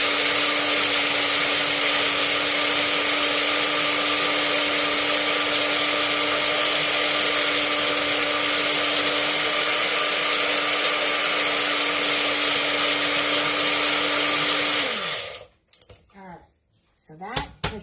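Blender whirring loudly at a steady pitch as it purees herbed aioli with garlic, a constant buzzing roar that winds down and stops near the end, followed by a few clinks and faint movement.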